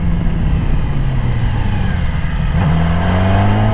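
A Yamaha R6 sport motorcycle engine heard while riding and braking, with a loud, constant, rumbling drone, dense wind roar and a slight pitch shift partway through as the engine slows.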